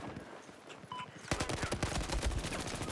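Rapid automatic gunfire from several weapons in Battlefield 4 on PC erupts after a quieter opening and keeps going loud and dense, with overlapping bursts of shots close by.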